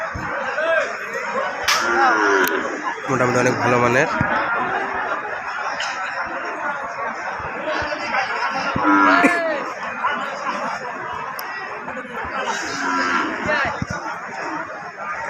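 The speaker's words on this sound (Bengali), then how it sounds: "আপনারা দেখতেছেন এগুলো শাহিয়াল বাছুর" Several Sahiwal calves mooing and lowing at different distances amid a busy cattle market, with people talking throughout.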